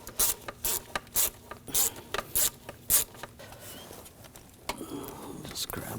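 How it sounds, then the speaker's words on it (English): A ratchet with a 6mm socket loosens the throttle body clamp on a 2007-2013 BMW 328i 3.0L L6, giving a series of quick, loud, close clicking bursts followed by quieter fumbling handling noise. "use a 6mm socket, and loosen up this clamp right here"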